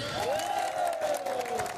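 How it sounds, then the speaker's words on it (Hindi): Audience applause in a college talk setting, a steady crowd clapping with some cheering that holds for under two seconds over a sustained tonal whistle-like sound. "आप लोग के लिए ताली मारिए।"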